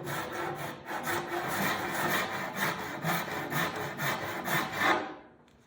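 Hand tool cutting a bevel into the wooden transom of a small boat, a steady rhythmic rasping of back-and-forth strokes up close that stops abruptly near the end, no talking.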